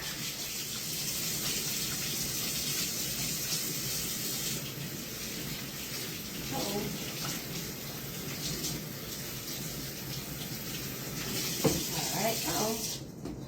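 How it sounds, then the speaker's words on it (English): A kitchen tap runs steadily as hands are rinsed clean of pepperoni while making homemade calzones, a continuous close hiss of water with brief splashes and knocks near the end. "let me wash my hands off and get this pepperoni off my fingers"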